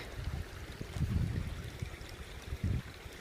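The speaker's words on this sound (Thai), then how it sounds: "น้ำไหลผ่านหิน" A stream running over rocks beside a flower bed, a soft, steady trickle and gurgle close by, with a few brief louder splashes, alone with no talk.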